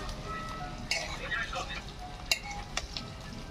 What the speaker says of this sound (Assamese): তাৰপিছত ধুনীয়াকৈ এনেকৈ ভাজি থাকিব লাগিব